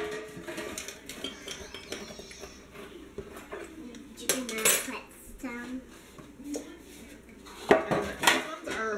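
Metal baking pans for banana bread clatter and clank as they are picked up and set down, in irregular knocks and scrapes with a couple of louder bangs, while someone talks between the sounds.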